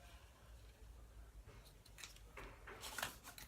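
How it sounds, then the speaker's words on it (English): Fabric scissors snip off excess ribbon from a wrapped gift box, a few faint, quick cuts near the end over soft background hiss. "And with the fabric scissors again, I'm just going to chop off"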